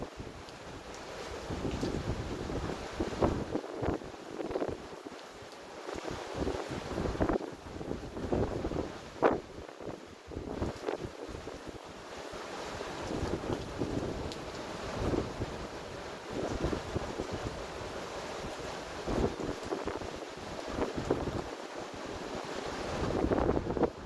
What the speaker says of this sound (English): I'm sure y'all can probably hear the ocean.